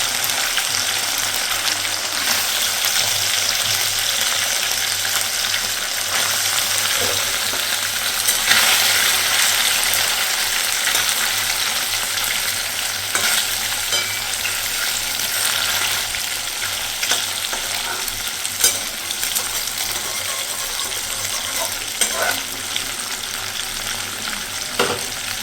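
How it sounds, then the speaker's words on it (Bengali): Small mourola fish fry in a pan of hot oil, giving a steady bright sizzle with occasional crackles and faint stirring clinks, close and continuous without speech. "পিঠ মোটামুটি ভাজা হয়ে গেছে, এবার তারা উল্টে দিই"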